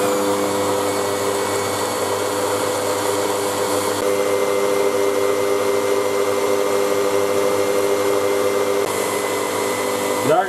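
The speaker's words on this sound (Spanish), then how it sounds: "Y se pone otra vez a batir." An electric mixer beats yogurt sponge cake batter, a loud, steady motor whir held close for the whole stretch with no pauses and a slight change in tone near the end.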